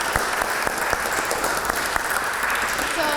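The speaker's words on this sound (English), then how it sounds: "May I applaud you? May I applaud you?" Audience applause fills a hall during an address and Q&A at the Oxford Union: dense, steady clapping with a few sharper claps standing out, loud and close, with no talk over it.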